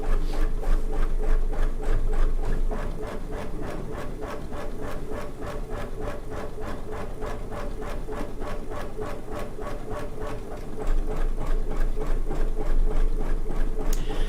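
A quilting sewing machine running a long basting pass with a big 5mm stitch, a close, rapid, even needle rhythm over a steady motor hum, continuous throughout.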